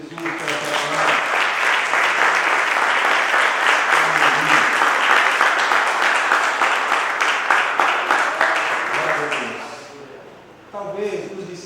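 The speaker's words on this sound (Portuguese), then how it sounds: "Você pode aplaudir Jesus por essa palavra?" A church congregation breaks into sustained, loud applause that holds steady for several seconds, then fades out, and a voice begins to speak as it dies away.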